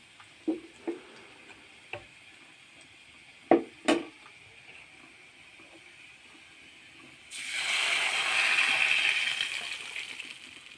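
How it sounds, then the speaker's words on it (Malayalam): Buttermilk poured into a pan of fried seasoning for Kerala-style moru curry, a steady close liquid rush and sizzling hiss lasting a few seconds after several sharp clinks and taps of utensils. "ഇതിലേക്ക് നമുക്ക് മോരൊഴിച്ച് കൊടുക്കാവേ"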